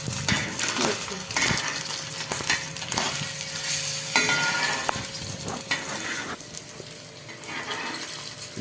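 Fish frying in a pan at home, a steady broadband sizzle running throughout with scattered clinks and scrapes of a utensil against the pan; no voices.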